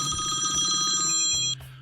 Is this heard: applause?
no